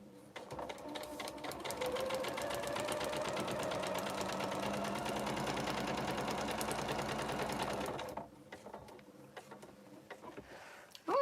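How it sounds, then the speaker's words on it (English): A sewing machine runs continuously for about eight seconds, stitching a quilt seam line with a fast, even mechanical chatter, then stops, leaving faint handling noises. "I'm now going to stitch down the"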